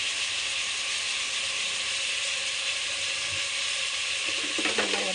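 Oil goes into a hot pan while cooking an egg curry, giving a steady, close sizzle and hiss that holds throughout, with a slight bubbling flare near the end.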